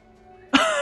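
A short cough in the video game Clam Man 2, starting abruptly after a quiet stretch of low background tone, loud and close, with a rough burst that trails off into a sustained tone.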